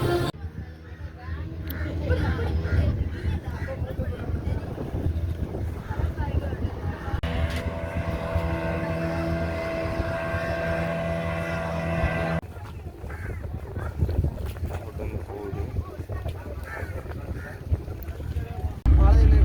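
Boat engine droning steadily at a landing jetty on Palaitheevu island, a continuous hum with wind buffeting the microphone throughout.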